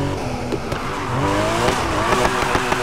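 Modified Porsche RWB in the video game Need For Speed Heat on a circuit, with a loud, steady engine drone that climbs in pitch and brief tire squeal as it drifts.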